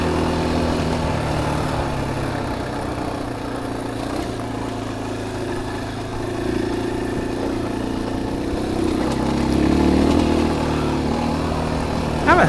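Motorcycle engine running steadily while riding a dirt trail between Abiquiu and El Rito in New Mexico, a continuous mid-pitched drone that rises and falls slightly with throttle, close and fairly loud with no talk.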